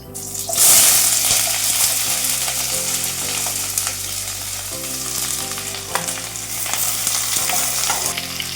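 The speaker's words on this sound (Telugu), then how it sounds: "ఆయిల్ వేస్తున్నాం చూడండి ముందుగా బాండిల్ పెట్టుకున్నాము దాంట్లో ఉల్లిపాయలు పచ్చిమిరపకాయలు వేసుకుంటున్నామండి" Onions and green chillies dropped into hot oil in a pan, giving a loud, close, continuous frying sizzle with stirring scrapes, a steady low hum underneath and no talk.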